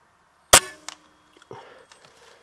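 A sharp, loud air rifle shot cracks out once, followed by a brief knock and a faint thud as a wood pigeon is hit and drops from a tree, then quiet rustling outdoors.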